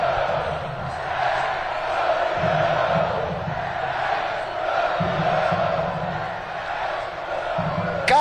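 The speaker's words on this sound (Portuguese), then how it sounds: "A torcida gritando é campeão." A football crowd at Canindé stadium chants in unison during a Portuguesa home match, a loud rhythmic roar swelling and repeating in regular phrases across the whole stretch, with no other sound standing out.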